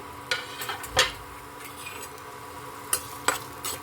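Sambar powder, onion and garlic frying in a pan, heard as soft sizzling with scattered scrapes and clinks of a spoon stirring against metal, fairly close and without talk.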